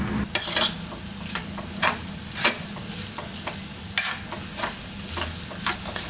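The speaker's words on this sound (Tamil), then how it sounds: "பாருங்க இந்த அளவுக்கு நீங்க நெய்யில வறுத்தீங்கன்னா போதும்." Grated coconut stirred and fried in ghee in a pan, with a steady sizzle broken by repeated scraping strokes of a spoon against the metal.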